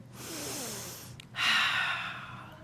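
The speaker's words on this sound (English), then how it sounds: "Take a deep breath." Deep breaths drawn slowly and audibly close to the microphone, one long inhale followed by a brief pause and a stronger, breathier second breath, with no speech.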